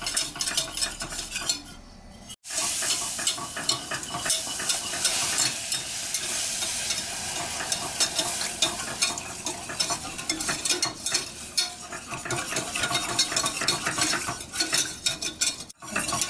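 Cold milk being stirred into lightly browned cooked flour in a pan, with a sustained close sizzle and frequent scraping and tapping of a utensil against the pan throughout, no voices.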